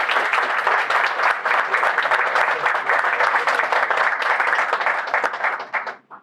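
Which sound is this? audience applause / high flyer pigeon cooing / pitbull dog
audience applause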